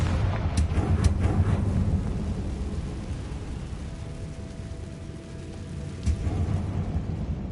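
A Confringo spell blast in Hogwarts Legacy booms and rumbles as a sustained, loud, low roar with sharp crackling bursts near the start and again later.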